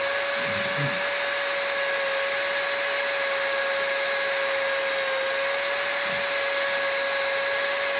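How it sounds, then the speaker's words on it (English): A rotary polishing wheel, loaded with polish, spins steadily on Glock trigger parts, making a loud constant whir with a high tonal hum and faint rubbing as parts touch the wheel. "The wheel seems to kind of keep some of the polish on it."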